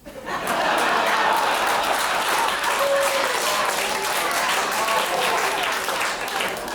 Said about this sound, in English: A lot of the same women clapping.